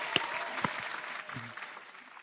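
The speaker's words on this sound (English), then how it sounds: "everybody give the virtual applause for Alician" Scattered, thin applause for a presenter at an online architecture talk, a few sharp claps early on fading into a faint, sparse patter.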